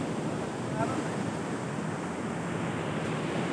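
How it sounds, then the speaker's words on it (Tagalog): Strong sea waves surge and break along the shore at Barangay Bucana, Nasugbu, Batangas, a loud, continuous roar of surf with wind buffeting the microphone throughout. "So ang lalakas ng alon din"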